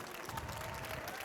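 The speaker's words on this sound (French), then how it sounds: "je vous demanderai, s'il vous plaît, de faire une belle main d'applaudissements pour Nicolas Dutertre." An audience at a chocolate show in Montreal applauds, a brief burst of quiet, even clapping from a crowd heard at a distance.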